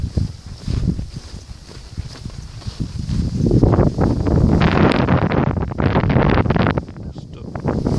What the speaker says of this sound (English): Still pretty windy.